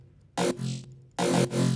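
Dubstep sample sound built with the Citrus plugin in FL Studio: two loud, gritty bursts, each a sharp wide hit that settles into a buzzing, growling tail, separated by a short gap.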